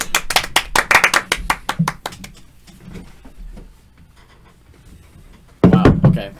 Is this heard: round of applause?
yes